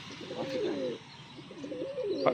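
Black pigeons cooing close by, a few soft, throaty coos in a slow rhythm, with no other sounds.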